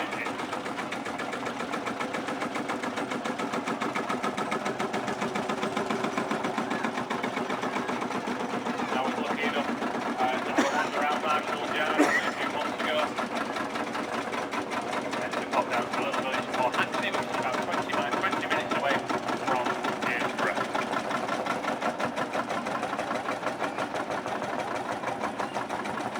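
Marshall single-cylinder tractor engine with a 6 1/4 inch piston running at a vintage show, a steady rapid mechanical thudding held throughout, with someone talking over it.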